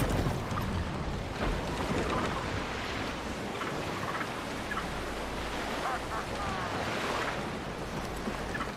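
A sailing ship moving over the waves in Assassin's Creed Black Flag, a steady, dense wash of wind and sea surf that stays loud and continuous throughout, with faint creaks and calls in the background.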